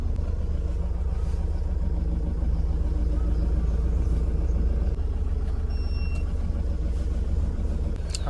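A pickup truck crawls along in first gear toward a washing spot after rain, with a steady, low engine rumble that holds close and constant throughout, no voices over it.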